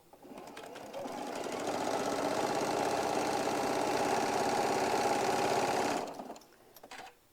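Sewing machine stitching down the side of a quilt block, one continuous steady run of rapid stitching for about five seconds, fairly close, then stopping with a few soft clicks.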